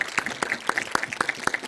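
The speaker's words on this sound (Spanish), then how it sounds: "Pido un aplauso anticipado para que sean bienvenidos." An audience welcomes singers at a lecture on the soprano Ángela Peralta with rhythmic applause: sharp, evenly spaced claps about four times a second, fairly close, without any speech.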